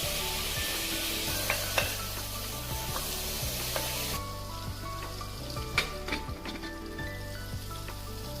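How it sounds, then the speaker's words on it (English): Chopped onions with cinnamon sticks, bay leaves and cloves sauté in a pan with salt for a prawn kofta curry, giving a steady soft sizzle with light scraping and tapping of stirring throughout, no talking. "Saute them with a little bit of salt until they are golden brown."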